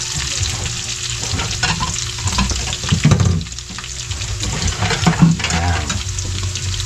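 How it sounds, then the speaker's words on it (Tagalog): Ginger and garlic dropped into hot oil for a banana heart dish, a loud close sizzle with stirring scrapes and bursts of crackling that swell and ease, no talk. "At medyo lumalapitik na, ilagay na natin yung luya at bawang"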